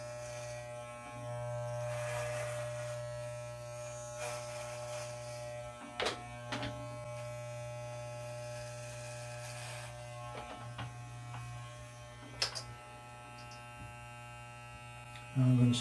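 A Wahl electric hair clipper hums steadily during a self haircut, its constant motor drone broken by a few short clicks and bumps as it moves along the head, with a louder burst at the very end.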